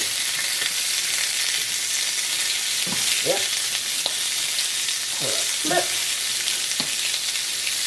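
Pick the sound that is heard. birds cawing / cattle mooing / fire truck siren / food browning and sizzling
food browning and sizzling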